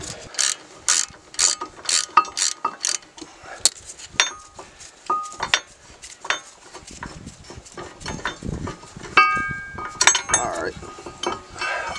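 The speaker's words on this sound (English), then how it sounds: "I ended up putting a bit of a pipe on this ratchet here, the cheater bar, to" A ratchet fitted with a pipe cheater bar loosens caliper bracket bolts on a Volvo V70, giving a close series of sharp metallic clicks and clanks in irregular bursts with some metal handling noise, no voices.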